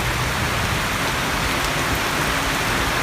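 Steady rain falling on the road between Cagayan de Oro City and Gingoog City, a loud, dense continuous hiss with no breaks.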